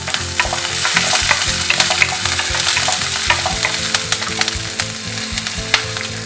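Curry leaves and green chilli crackle loudly in hot oil, a dense spitting sizzle with rapid pops and spatters close by.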